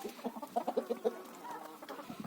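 Several backyard hens fed mostly wheat and bran give soft, rhythmic clucks in a quick string of short calls, close and moderately loud, with no talking.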